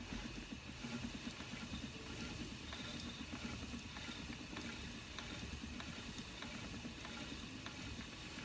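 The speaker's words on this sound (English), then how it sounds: "I'll just slow down my spinning a little bit for you" A spinning wheel turning fibre into handspun yarn, a steady soft whirring and rhythmic ticking that runs close and even throughout, with no talk.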